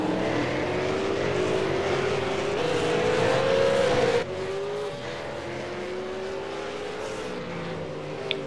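V8 Supercar race cars in the iRacing sim at Mid Ohio scream past the start-finish line, a loud sustained engine whine rising in pitch, then shifting and carrying on steadily as the pack stays close.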